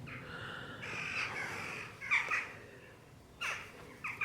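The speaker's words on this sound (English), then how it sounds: "The birds you're hearing are jackdaws, which is a type of corvid." Jackdaws call in a garden near the Malvern Hills, giving several short, sharp chack calls in scattered bursts over a soft background.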